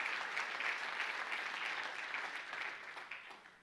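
A church congregation applauds together, a steady, dense wash of clapping that stays strong for a few seconds and then slowly begins to thin and fade.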